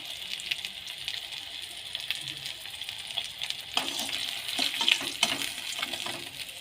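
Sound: rohu fish frying in oil

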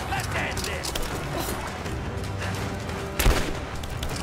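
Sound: gunfire in the video game Rise of the Tomb Raider

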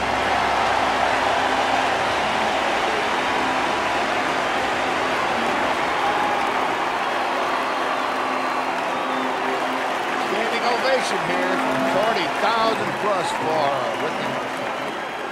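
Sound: stadium crowd applauding as Rick Ankiel is announced

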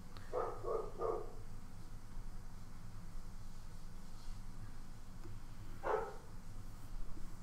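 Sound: dog barking in the house

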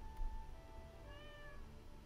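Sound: cat meowing in Stardew Valley video game

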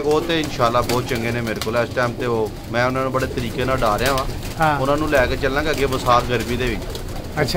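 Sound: pigeons cooing

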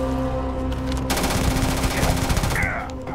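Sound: gunfire from a gun in the video game Starfield

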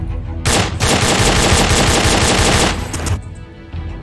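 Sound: gunshots from the VR game Onward

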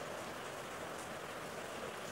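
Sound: rain falling in a video game

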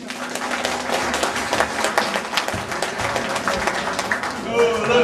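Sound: applause for pedal steel guitarist Dolph Haring

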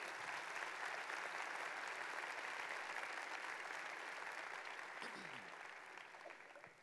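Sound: audience applause in church

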